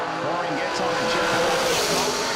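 A drag race car's engine roars loudly and steadily as it clears out its pipes at a drag strip, a continuous blaring rasp with a race announcer talking over it.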